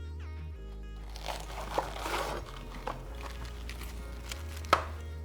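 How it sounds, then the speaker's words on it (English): A knife cuts lettuce for a burger on a board, with a brief run of crisp crunching chops near the middle. A steady low hum and a faint tonal drone run under it, and a sharp tap comes near the end. "then you cut it into something that you think will fit on your bun and over your burger"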